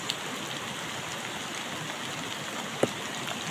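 Rain falls outdoors as a soft, steady hiss, faint and unbroken, with a couple of tiny drip-like ticks and no voices.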